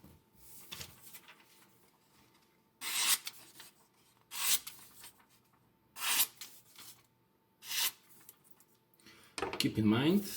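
A Victorinox paring knife is drawn across a DMT coarse/fine diamond plate in four short, separate scraping strokes with quiet pauses between, close up, followed by a louder rustle at the end.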